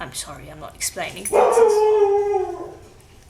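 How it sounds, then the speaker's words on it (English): A pet dog named Pumpkin, upset by birds landing on a balcony outside, gives one loud drawn-out howling bark after a few seconds of talk, ringing for about a second before fading. "She gets upset when birds land on the balcony, and that was her barking at them."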